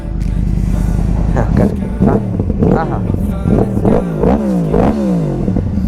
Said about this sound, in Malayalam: ജോൺ എബ്രഹാം എക്സോസ്റ്റ് ഒന്ന് കേൾപ്പിക്കൂ.